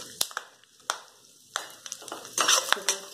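Dry fruits such as cashews, almonds, pistachios and walnuts are stirred in ghee in a pan, producing scattered clinks and scrapes of a spoon against metal over a soft sizzle, with a voice talking intermittently.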